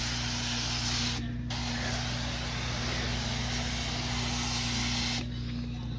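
Continuous loud hiss of carpet-cleaning pre-spray being applied to urine-stained carpet, with two brief pauses in the spraying and a steady machine hum underneath.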